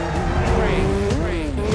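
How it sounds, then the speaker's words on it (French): Motorcycle engines rev and whine with rising and falling pitch, close and loud, as the bikes race past with tires squealing; voices talk underneath. "Il y a des motos qui arrivent."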